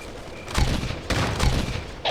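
Enemy gunfire in the video game Ghost Recon at the Stone Bell mission: loud, close bursts of rifle fire in a few rapid volleys with short pauses between them, and no talk over it.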